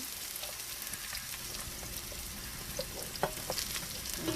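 Onion sizzles in olive oil in a hot pot, a soft steady frying hiss with small pops and a light stirring scrape, quiet and close.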